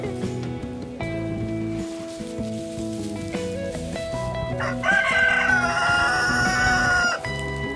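Chickens clucking outdoors in a field with a rooster crowing loudly and close by, a long drawn-out crow standing out over the scattered clucks of the flock.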